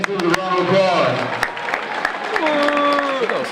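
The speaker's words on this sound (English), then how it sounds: "Let's give both these students a round of applause." School assembly audience applauds two students, a rattle of clapping from a crowd in a hall with voices and cheering tones rising over it throughout.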